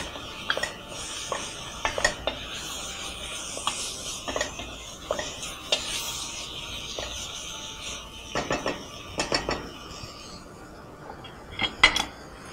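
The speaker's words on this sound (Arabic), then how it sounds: "واقلبها كمان تقليبه." A spoon clinks and scrapes against a pot while a flour-thickened fish soup is stirred, giving irregular metallic taps and rubbing strokes over twelve seconds, close and fairly quiet with no voices.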